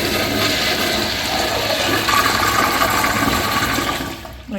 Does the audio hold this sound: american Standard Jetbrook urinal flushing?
yes